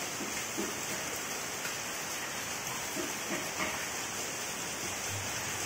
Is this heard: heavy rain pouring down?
yes